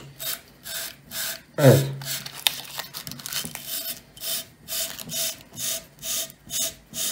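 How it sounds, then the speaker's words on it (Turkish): Fine sandpaper rubs the darkened copper contacts of a washing machine motor while the part is turned by hand, making rhythmic rasping strokes up close. A person briefly says a word. "bir zımparayla, yani aşındırmayacak en ince olan bir zımparayla kararan bölgelerimizi parlatacağız"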